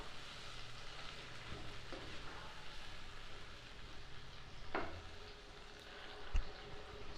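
Chicken fries in a pan with a soft, steady sizzle, quiet and continuous, with an occasional clink of a stirring utensil and a small thump near the end.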